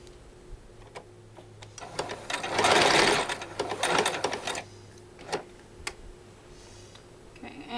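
Sewing machine stitching fabric pieces of a sewn critter cube, a fast mechanical ticking whir rising in a loud central burst, then stopping and starting in shorter runs amid clicks and handling noise.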